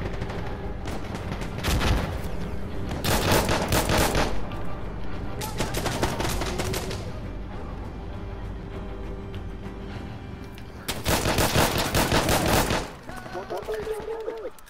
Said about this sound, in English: That's a grenade going on the objective